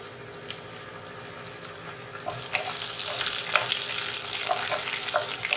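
Onions and dried red chillies fry in a pan for a tomato curry, with a steady close sizzle that grows louder and busier partway through, marked by occasional crackles and stirring.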